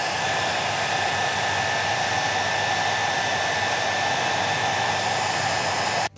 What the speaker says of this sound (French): Tu prends ton sèche-cheveux, tu le mets ici, dans le trou que tu as créé dans ladite bouteille.